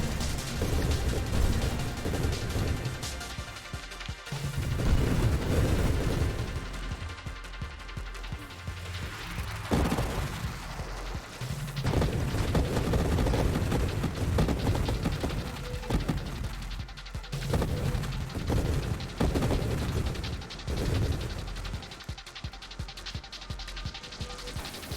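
Explosions in the space shooter game Nova Drift, a dense barrage of crashing blasts and booms layered over a continuous rumbling game soundtrack, loud and nearly unbroken, with no talk.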